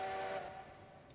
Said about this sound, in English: I can get some whistle action.